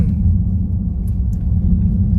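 Dodge Charger Scat Pack V8 fitted with a Hellcat air filter, a steady deep low rumble from inside the moving car, loud and continuous with no talk.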